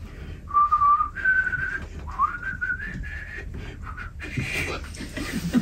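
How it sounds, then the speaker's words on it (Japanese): A man whistles a jazz song tune during a Japanese dramatic reading, short clear melodic phrases with gaps and audible breaths between them, sounding close and alone. "六さんはジャズソングのその歌を口笛で吹いた。"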